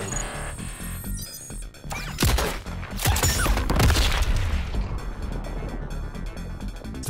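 RoboCop fatality explosions in the Mortal Kombat 11 fighting game: dense rumbling blasts, crashes and heavy impacts pile up loudly, swelling midway and staying thick and continuous to the end.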